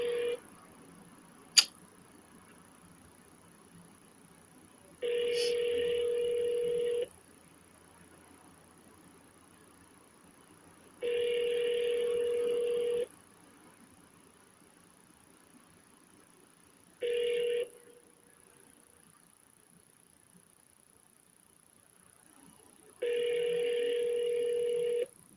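A phone call to a seller rings out: a brief click, then four long, evenly spaced ringback tones separated by quiet gaps, clear and close through the handset with no talking.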